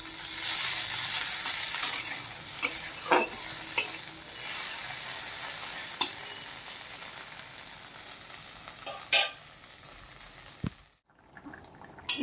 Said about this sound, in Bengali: এদিকে কড়াইয়ে ঢেঁড়সগুলো ভেজে নিচ্ছি